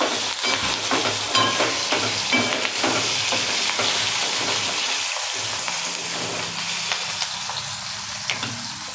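Chillies and guava for a Gujarati sambharo fry in a pan, giving a steady close sizzle with repeated scraping stirs and clinks throughout, no voices.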